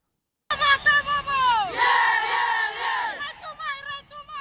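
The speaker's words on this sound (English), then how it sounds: "The girls will make their intention known when they perform the Vimbi tomorrow." Fijiana women's rugby 15s team chanting the Vimbi war cry together, a loud group of voices in rhythmic shouted and sung bursts with pitch that rises and falls, close and alone.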